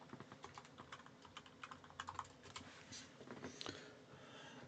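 Quiet, close typing on a computer keyboard, with rapid irregular key clicks in bursts and a few louder taps near the end.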